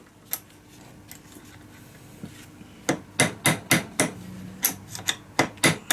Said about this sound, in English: I am now able to use an old extension piece and a hammer, and I can just tap